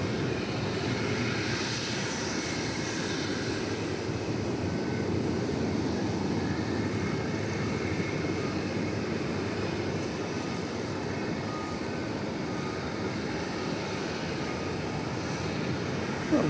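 A UPS cargo plane departing DFW Airport sends out a continuous, moderately distant engine rumble and roar that stays even for the whole stretch.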